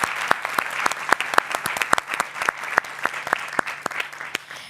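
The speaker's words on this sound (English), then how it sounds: "you can give yourself a warm round of applause." A live studio audience at a women-in-business event gives a warm round of applause, dense steady clapping from many hands filling the room for several seconds.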